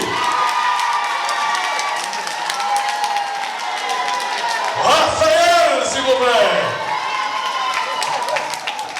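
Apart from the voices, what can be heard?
audience applauding and cheering at a beauty pageant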